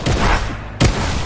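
Gunfire in a Fortnite match, two loud sharp shots close by, the second cracking out after a short quiet gap, each trailing off in a rough echo.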